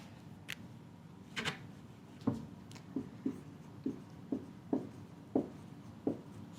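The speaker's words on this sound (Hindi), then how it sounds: "तो यहाँ लिख देते हैं बैंक अकाउंट" A pen writing a bank account heading on a ledger page, a quiet series of short scratchy strokes and taps in an uneven rhythm, close and faint.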